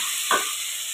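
Food sautés in a pan with a steady, close hiss and one brief sputter.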